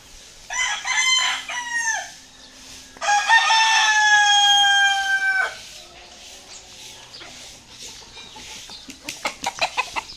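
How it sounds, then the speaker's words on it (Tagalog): A rooster crows close and loud twice in succession, long strained calls, followed by softer clucking and short rhythmic calls from backyard fowl. "Ayan yung kauna-unahan ko tandang"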